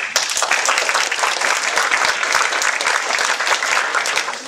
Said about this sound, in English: Everyone, let's give Daniel a round of applause